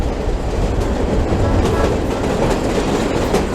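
A train rolls along a railroad track through the southern Nevada desert near Boulder City, a loud, steady rumble with rhythmic wheel clatter heard from aboard.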